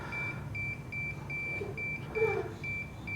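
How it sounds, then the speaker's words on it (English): A digital thermometer alarm beeps in a steady, evenly spaced series of short high tones, moderately loud over low background hum, with a faint brief sound partway through. "There's my alarm."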